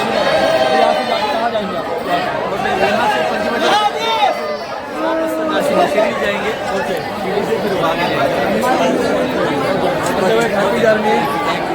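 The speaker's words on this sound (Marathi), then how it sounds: "तर तुम्ही बघू शकता की गर्दी खूप आहे" Dense crowd chatter fills the grounds of Trimbakeshwar Jyotirling temple in Nashik, a steady close wash of many overlapping voices with no pauses across the whole stretch.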